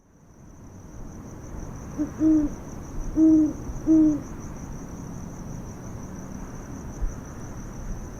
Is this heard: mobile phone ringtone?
no